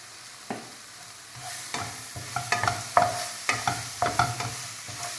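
Fried onions with green chilli paste and turmeric stirred in a pan, a spoon scraping in a string of distinct strokes that quicken toward the end over a soft background sizzle, close and with no talk.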